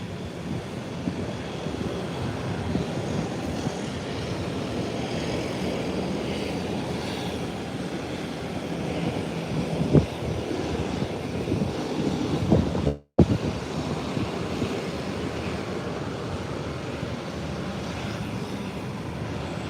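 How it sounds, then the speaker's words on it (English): A Southwest airliner arriving from Baltimore taxis to the parking gate, a steady broad engine roar heard from outside with wind buffeting the microphone, continuous with a brief dropout near the end. "the flight from Baltimore Southwest that just landed is heading to the parking gate"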